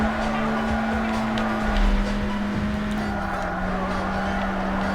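A car engine drones steadily through a race on the Euro Marathon course in the Burnout video game, a sustained tone that shifts pitch slightly, with brief tire noise partway through.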